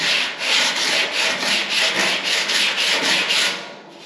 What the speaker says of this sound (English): Let's sand that down.